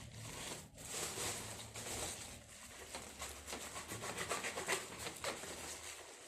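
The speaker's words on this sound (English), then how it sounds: "Come on, out you come, out of the bag." A gold two-cam action door closer is pulled out of a protective bag, making continuous rustling and rubbing of plastic bag material, close and moderately loud with scraping texture and no talk.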